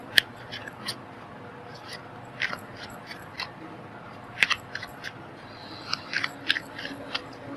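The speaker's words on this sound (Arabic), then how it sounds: "انا طبعا بقلب الورق كتير بس عشان يبقى ايه مظبوط" Tarot cards shuffled by hand during an Arabic-language reading, giving soft scattered riffling snaps and flicks at irregular intervals, close and fairly quiet, with no talk over them.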